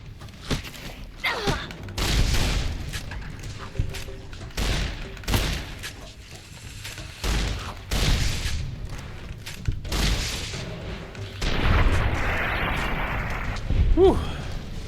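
Shots from a firearm in Fallout New Vegas ring out as a run of separate booming bursts over about fifteen seconds, each sharp thud trailing into quieter game ambience between.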